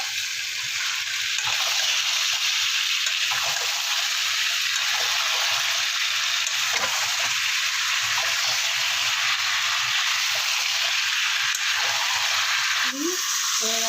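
Previously fried meat and chili powder frying in a pan, a steady, loud broadband sizzle that runs unbroken throughout, with a brief clink near the end.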